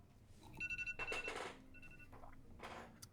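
Telephone ringing with a trilling bell in rapid bursts, fairly faint, followed by a couple of shorter, quieter rings.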